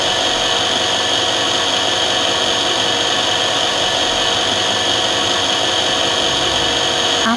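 A CT 5412 automatic drilling machine mills a lens, making a continuous high-pitched mechanical whine with a steady, unbroken rasp from start to finish and no talking.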